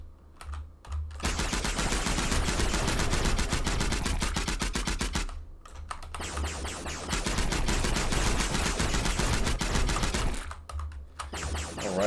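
Rapid automatic gunfire from a Godot 3D boss fight video game, loud and sustained in two long bursts with a short pause between and brief gaps at the start and end, no talking.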